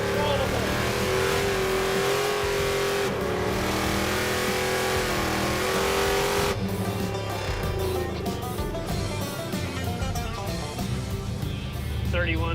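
Muscle truck engine revving hard in first gear, loud and close, pitch rising and shifting as it accelerates, with a steady roar throughout.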